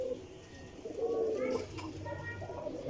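Soft, close cooing of Parwazi flying pigeons, a couple of low warbling coos in quick succession, fairly faint against a quiet background.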